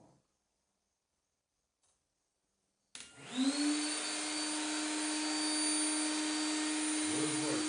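A wood router clamped in place switches on after near silence, spinning up with a rising whine and then holding a loud, steady high-pitched roar to the end.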